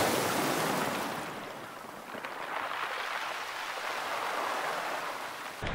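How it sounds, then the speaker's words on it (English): Waves wash in and drag back over the beach stones on the Devon coast, a steady close hiss of surf and rattling pebbles with no voices. "I love the sound that the water makes as it comes back over the stones."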